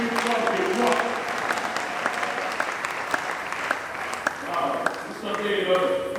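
A church congregation applauds and cheers during a Sunday morning service, a steady wash of clapping with scattered shouts that swells again near the end.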